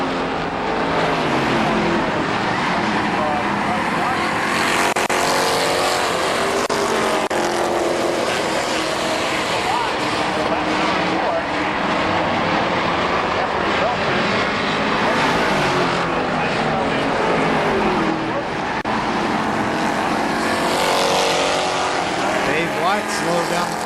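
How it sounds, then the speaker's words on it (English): Race cars roar continuously around the KilKare Speedway oval during a 4th of July race, loud engines rising and falling as the pack passes, with a track announcer talking over them throughout. "They're side by side down the back stretch, going into turn 3, and now Jeff Wilson takes over the lead"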